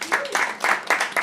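Brief clapping from a comedy show audience in several short bursts, scattered rather than a full ovation, heard close with a few voices mixed in.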